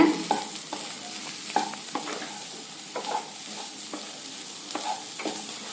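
Onions sizzle and fry in a pan with chili powder and spices while being stirred, a steady crackle with repeated scraping strokes close by, for a raw-banana bonda recipe.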